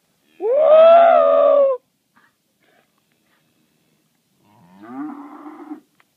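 Black Baldy cattle mooing outdoors, one long loud moo followed after a pause by a shorter, quieter moo, with no talk.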